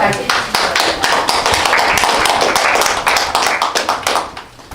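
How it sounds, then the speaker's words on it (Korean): Seminar audience clapping to welcome speakers at a human rights event, close and loud with distinct individual hand claps in a steady patter throughout, tapering slightly at the end. "큰 박수로 맞이해"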